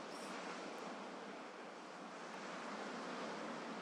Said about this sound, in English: the sound of the ocean below, the rhythm of the waves moving in and pulling back